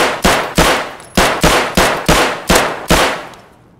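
Handgun shots in Escape from Tarkov, seven sharp, loud single reports spaced about a third to half a second apart, each with a short decaying tail, alone with no talk.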